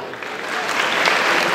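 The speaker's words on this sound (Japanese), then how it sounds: "盛大な拍手をお願いします。" Applause from the audience at a kickboxing event, a dense wash of clapping that swells slightly and holds steady, loud and filling the hall.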